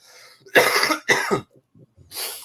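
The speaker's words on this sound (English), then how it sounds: "Excuse me, I've been coughing a lot." A person coughs harshly several times up close, in two quick bursts, then a short pause and another cough.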